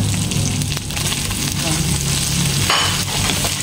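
Sponge gourd (sikwa) goes into a hot frying pan for a Bisaya utan vegetable dish, setting off a loud, steady sizzle with scraping stir strokes and a brief sharper hiss near the end.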